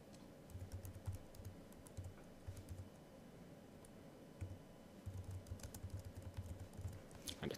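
Someone types a template name on a computer keyboard, a soft, close patter of keystrokes in short irregular bursts with brief pauses, quiet and without talk.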